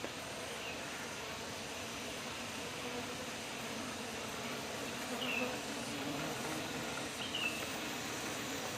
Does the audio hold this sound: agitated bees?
yes